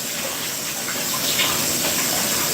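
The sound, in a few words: rinsing a small bowl under running tap water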